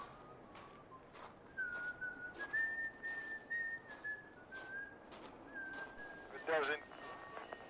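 A person whistles a cheerful, happy tune in long sustained notes, moderately close and clear, with a brief warbling trill near the end over a quiet background.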